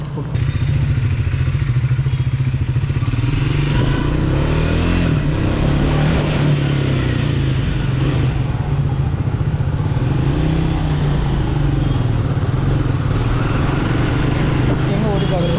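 Motorcycle engine droning and revving during a short ride, captured from a helmet-mounted GoPro 12 Black, with loud wind buffeting and road clatter and someone talking over the steady engine note.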